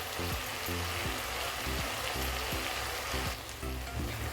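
A bottle gourd halwa mixture with milk powder sizzles steadily in a pan under a dense, even hiss, while repeated soft scraping strokes of a spoon turn it over in a loose rhythm.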